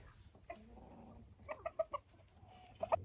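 A rooster clucks in short bursts in a garden, a few soft calls then a quick cluster of louder clucks, fairly close and otherwise quiet.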